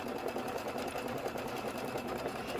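An embroidery machine stitches a piecing template for a watermelon chenille hot pad, giving a steady, fast, even mechanical whir and needle chatter, close and constant throughout with no talking.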